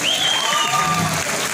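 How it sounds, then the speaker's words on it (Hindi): An audience claps steadily at a comedy show in the Gaiety Theatre, Shimla, a loud, dense wash of applause with a faint whistle riding over it. "अच्छा लगा तो तालियां।"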